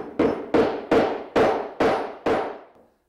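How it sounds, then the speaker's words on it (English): Six sharp, evenly spaced hammer taps seat a T-nut into a counterbore hole in a router mortising jig, each strike ringing briefly before the next, close and clear with no talking. "To install the T-nut, just place it in our counterbore hole and tap it in with a hammer."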